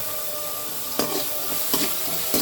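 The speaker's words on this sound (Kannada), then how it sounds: "ಟೊಮೊಟೊ ಎಲ್ಲ ಬೇಗ ಫ್ರೈ ಆಗುತ್ತೆ" Tomatoes fry with salt in a pan for chicken biryani, a bright steady sizzle broken by a few quick stirring scrapes.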